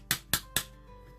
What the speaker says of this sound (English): So to avoid damaging the piece, I'm going to use a plastic hammer.